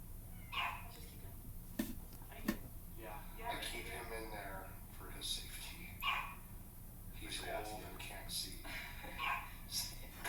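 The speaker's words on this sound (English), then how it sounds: "It's a different dog. It's barking somewhere." A different dog barks somewhere out in the dark, its short barks mixed with people talking in hushed, nervous voices over a steady background hiss.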